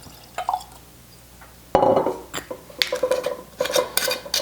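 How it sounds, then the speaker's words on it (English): Tullamore DEW Caribbean Cask whiskey is poured into a glass, starting with a clink and followed by liquid splashing and clinking glass in short bursts, close by. "And pour this."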